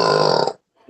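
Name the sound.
burp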